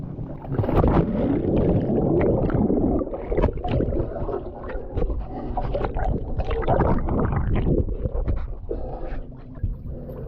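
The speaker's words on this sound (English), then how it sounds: "Intentional capsize." A kayak deliberately capsized into open water makes a loud, close churn of splashing, gurgling and sloshing that carries on throughout, with bursts of turbulent water and no talk.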